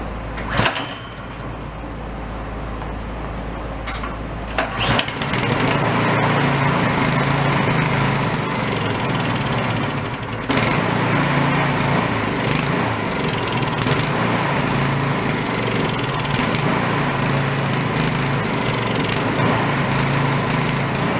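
A free snow blower's small engine runs on the choke, surging and hunting as it idles. It catches after a short sputtering start, then drones steadily and loud for about fifteen seconds.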